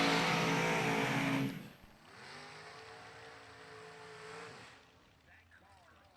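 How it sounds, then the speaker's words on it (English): A drag racing car launches hard down the strip at a high-paying race event, a loud roaring blast for over a second that cuts off abruptly, leaving a fainter lingering engine drone that fades out. "That car moves so quick in 60 foot."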